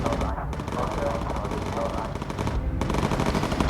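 In the video game Bomber Crew, gunners rattle off machine-gun fire at enemy planes: dense, rapid bursts that run almost nonstop, loud and close, with brief gaps between volleys.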